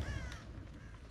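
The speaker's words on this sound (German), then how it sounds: "Da ist ein Rabe aufgeflogen." A raven in the video game Dead by Daylight gives a single harsh caw as it flies up, heard once against a dense, rumbling game ambience.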